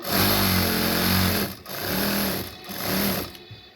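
A sewing machine stitches a kameez sleeve in three steady motor-driven bursts separated by brief pauses, loud and close with no talking.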